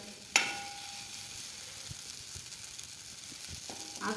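Stuffed okra frying in a covered pan gives a soft, steady sizzle, with a sharp clatter near the start and another knock toward the end, like a lid being handled.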